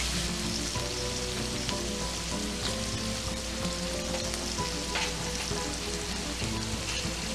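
Garlic sizzling in a hot pan of oil for a seafood paella, a steady, dense crackling fry that runs continuously at close range with no voices over it.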